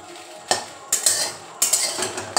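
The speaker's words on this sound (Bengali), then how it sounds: "প্রথমে এই শুকনো লঙ্কাটা একটু শুকনো খোলায় ভেজে নেব।" Dry red chillies, fifteen to twenty of them, being roasted in a dry pan, with a few distinct clattering stirs of a utensil against the pan standing out over a faint background.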